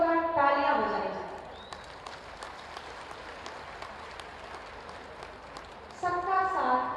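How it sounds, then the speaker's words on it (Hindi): Applause from a large crowd at a Maharaja Suheldev Jayanti event, heard as a steady, distant wash between stretches of amplified speech at the start and end. "मैं एक बार फिर से निवेदन करूंगी कि पूरी ऊर्जा के साथ माननीय के लिए जोरदार तालियां बजाई जाए"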